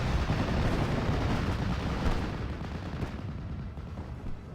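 Artillery fire in a World War II strategy video game, a dense rolling rumble of heavy booms and distant blasts that runs steadily and slowly fades, with no voices.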